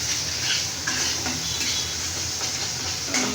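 Spices are stir-fried in a pan for an egg dish and give a steady close sizzle, with scraping stirs and light clinks over it. No one speaks.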